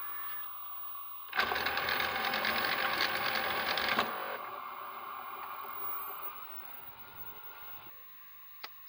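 A Sanyo Betacord VTC-1000 Betamax video recorder with a faulty rewind runs its tape mechanism: a loud whirring, ticking burst for a few seconds, then a quieter steady mechanical hum that fades near the end.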